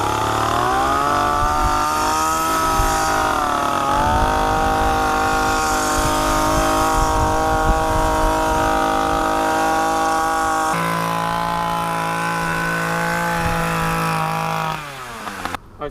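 A Titan multi-purpose petrol hedge trimmer running close and loud, its two-stroke engine droning steadily with small shifts in pitch as the revs change, then cutting off at the end.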